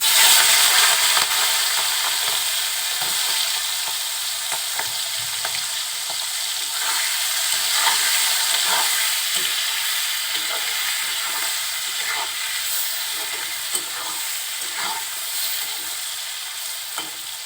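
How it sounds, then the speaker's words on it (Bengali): Cleaned prawns with salt and turmeric frying in hot oil, a loud, steady crackling sizzle throughout with faint spatula stirs, close up and no talking. "এখন মাছগুলো এই তেলের ভিতরে দিয়ে দিচ্ছি।"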